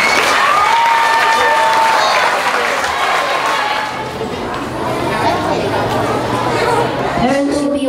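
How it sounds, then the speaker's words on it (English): Audience at a grades 3–5 school awards assembly breaks into sustained applause mixed with crowd chatter and a few cheers, ongoing throughout, with voices rising near the end. "Let's give them a round of applause."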